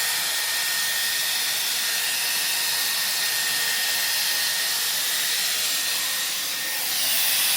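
A Dyson Airwrap hair styler blows air in a steady, close, loud hiss that runs continuously, dipping briefly near the end before resuming.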